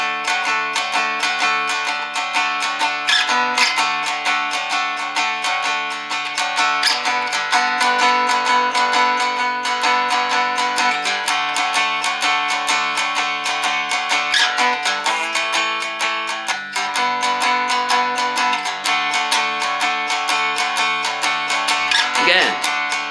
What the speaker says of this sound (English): So applying that to the 12 bar blues, it would sound something like this.